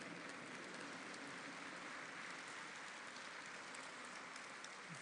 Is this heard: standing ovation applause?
yes